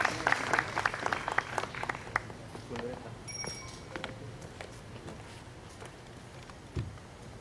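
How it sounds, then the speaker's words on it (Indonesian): An audience at a photography exhibition applauds four photographers, a fairly soft burst of clapping that fades over several seconds into quiet room noise, with faint voices in the background. "Tepuk tangan untuk 4 fotografer kebanggaan kita"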